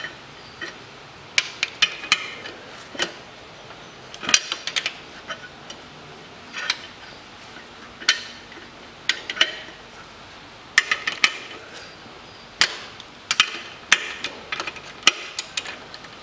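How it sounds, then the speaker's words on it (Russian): Loosening 17 mm bolts with hand tools while removing the engine from a 2013 Mitsubishi ASX 1.8 produces sharp metallic clinks and ratcheting clicks in irregular bursts, close up, with occasional quiet talk. "Последний болт выкручиваю"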